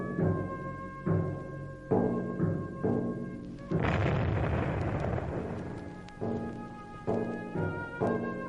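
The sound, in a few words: soldiers firing guns, radio drama sound effect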